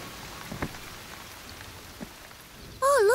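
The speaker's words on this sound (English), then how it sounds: "Pitter-patter raindrops." Light cartoon rain patters softly and steadily, a faint hiss with scattered drops, before a bright musical tone cuts in at the end.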